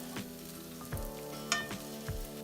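Ground ginger and turmeric fry in a pan with oil, a quiet continuous sizzle with occasional soft stirring scrapes over a faint steady tonal hum.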